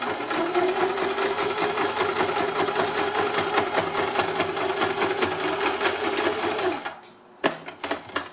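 A sewing machine runs in a fast, even stitching rattle along a seam for nearly seven seconds, then stops, followed by a few sharp clicks and a short burst of renewed stitching.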